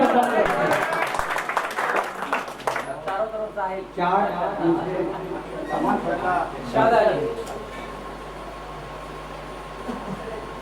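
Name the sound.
applause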